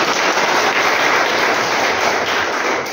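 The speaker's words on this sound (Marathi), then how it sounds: "इतक्या जोरदार टाळ्या वाजवा की जोशाला सुद्धा जोश आला पाहिजे" Loud, dense applause from a live audience at a Marathi comedy and parody-song solo performance, a steady wash of many hands clapping close and continuous throughout, with no speech over it.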